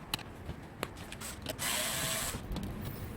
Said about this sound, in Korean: 요 나사들만 풀러주면 되거든요